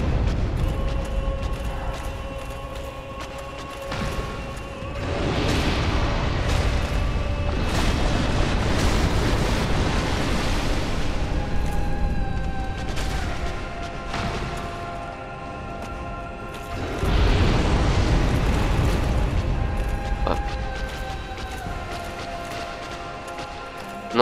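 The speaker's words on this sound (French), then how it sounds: "Là par contre, c'est l'explosion." Explosions rumble in the Dark Souls video game, long roaring bursts that swell and fade over a noisy, lava-filled battle, each loud and broad, with no talk.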